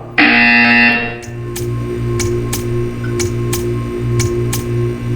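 Loud electronic buzzer blares for about a second in Portal 2, a harsh, steady tone cut off abruptly, followed by a soft mechanical ticking that repeats at regular intervals over a low hum.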